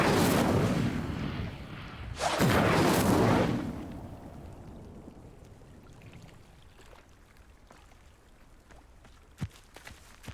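Incendio fire spell cast in the Hogwarts Legacy video game: two loud roaring whooshes of flame and blast, the second heavier, then a fading rumble and faint scattered crackles and taps.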